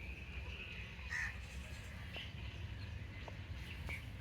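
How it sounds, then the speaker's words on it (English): Crows perched in a tree in India give a few short caws at a distance, faint over a low background rumble of outdoor ambience. "There's some crows up in the tree."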